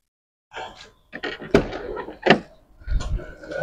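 The rear door of a 2004 Isuzu Panther Grand Touring is handled and shut, giving two solid, close thumps amid rattling and handling noises.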